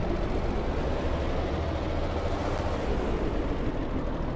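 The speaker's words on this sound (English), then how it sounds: "hear the engines go up in RPMs" Ship engines rising in RPM in the Stormworks game, a dense, loud rumbling roar with broad wash-like noise that holds steady throughout without any talk over it.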